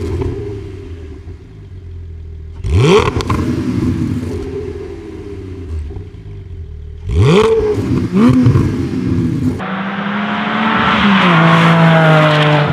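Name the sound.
Porsche 718 4.0 with Fabspeed aftermarket exhaust system revving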